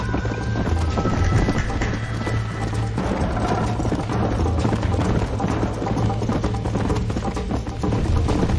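A horse gallops in Red Dead Redemption, a rapid continuous drumming of hooves mixed with jangling tack and clatter, steady and close throughout with a dense mechanical rattle underneath.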